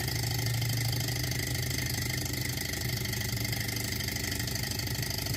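Stirling engine driving a small generator, a close, steady chugging hum with a fast even rhythm, running on its own without talk.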